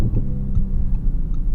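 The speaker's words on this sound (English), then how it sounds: "listening to those burbles and that motor" A 2023 Audi S6 sedan with a 450-horsepower engine burbles while driving, a low, steady throbbing rumble close by with faint irregular pops, no voices.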